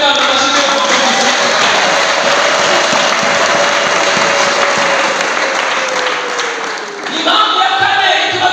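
Sustained applause from a church congregation fills the space, dense and steady throughout, with a faint tonal hum beneath and a brief dip near the end before the clapping swells again.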